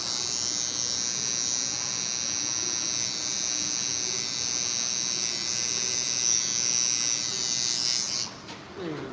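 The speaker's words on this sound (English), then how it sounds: "I'm only using the right side of my trimmer to make this straight line up." A handheld electric hair trimmer buzzes continuously and up close during a live haircut while a straight line up is cut, then stops near the end.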